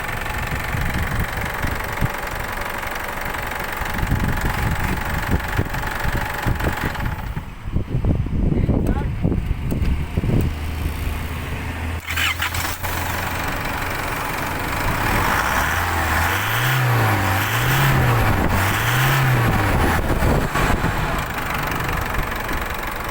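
An Isuzu Mu-X 3.0 diesel engine runs after a fuel filter replacement, a steady close idling clatter and rumble that continues throughout, with someone talking over parts of it.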